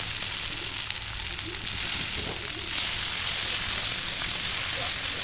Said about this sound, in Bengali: চলো এবার আমি পেঁয়াজ কুচিগুলো তেলের মধ্যে দিয়ে দেব